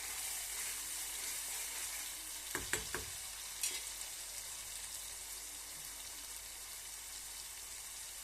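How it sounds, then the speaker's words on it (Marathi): Cashew and almond paste fries in hot oil in a home kitchen pan for a masala bhindi dish, giving a steady soft sizzle broken by a few sharp clatters of stirring near the middle. "काजू बदामची पेस्ट चांगली तेलामध्ये परतल्यानंतर त्याला चांगलं परतवून घ्यायचं"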